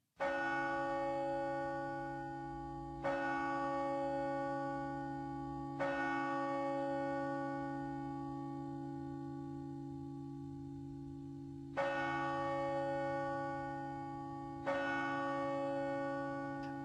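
Church bells ring as an added effect, sustained resonant tolling with several fresh strikes at irregular intervals, each decaying slowly into a long humming tail, loud and alone.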